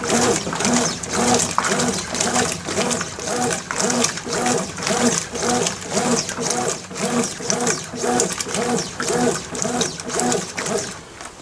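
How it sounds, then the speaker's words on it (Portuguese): A Consul 9kg washing machine (CWB09AB) agitates water on its first wash without clothes, on a quick program, making rhythmic swishing churns that repeat about every second, loud and close. "vou deixar ela fazer a primeira agitação"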